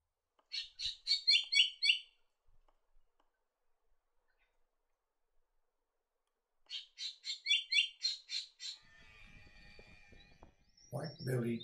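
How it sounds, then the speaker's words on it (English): Two bursts of the Top End spangled drongo, each a rapid run of sharp metallic chirps, separated by a long silence, followed by other bird calls and a brief noisy burst at the end. "The spangled drongo is found in a wide variety of habitats, in the top end."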